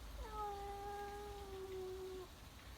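During a cat fight, a cat caterwauls in one long, wavering, tonal yowl that holds steady for about two seconds and then stops. The cry is fairly close and clear, and no one speaks over it.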